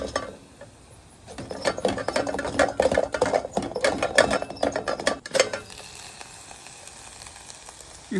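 Small cubes of cheese for queso cook on a griddle, giving a crackling sizzle with rapid clicking and scraping textures that swell for several seconds, then settle into a quieter hiss.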